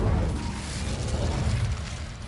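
Incendio fire spell cast in Hogwarts Legacy, a continuous broad rushing, crackling burst of flame that stays loud and even for a couple of seconds with no talking.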